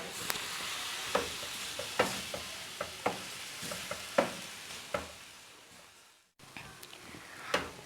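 Spoon stirring milk into a chicken patty mixture in a bowl, with a run of sharp scraping clicks and taps over a soft wet mixing hiss, close and steady, no voices.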